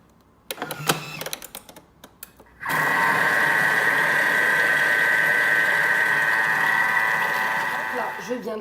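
A Thermomix whirs steadily at speed 4 for about six seconds, a loud, even motor hum with a high whine, after a few sharp taps and clicks as its lid and measuring cup are set in place.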